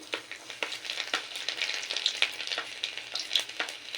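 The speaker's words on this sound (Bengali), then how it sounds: "এই তেলটাতেই রান্নাটা হয়ে যাবে আর বেশি তেল দেব না যেহেতু প্রচণ্ড গরম তো প্রথমেই দিয়ে দেব রসুন কুচি" Chopped garlic hits very hot oil in a wok for chilli soybean, crackling and spitting in a dense, continuous sizzle with rapid sharp pops, close up and with no voices.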